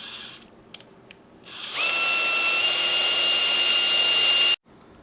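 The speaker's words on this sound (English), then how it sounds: "Drill a little smaller hole." A power drill bores a hole in a Yamaha 360 MX motorcycle part: a few faint ticks, then the motor spins up to a steady high whine for about three seconds before stopping abruptly, close and loud with no talking.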